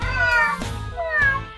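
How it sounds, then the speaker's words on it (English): A cat meows close by in a kitchen, two drawn-out, plaintive calls in a row, clear and fairly loud with no talking over them. "It's a kitty cat."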